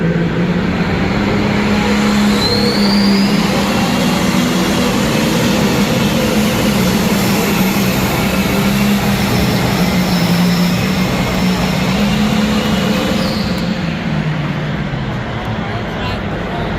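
A John Deere 60-30 pulling tractor roars at full power during a tractor pull, a loud, continuous, sustained engine drone that holds steady throughout.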